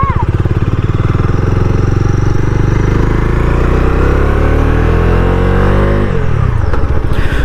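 Bajaj Dominar motorcycle engine running loud and close on an open road, a steady droning note rising in pitch as it accelerates, then easing off near the end.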